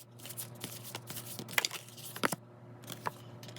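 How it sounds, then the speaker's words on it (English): Tarot cards shuffled close by, a run of soft riffling and sliding card noises with a few sharper flicks and slaps, heard over a low steady hum. "I'm going to shuffle the cards"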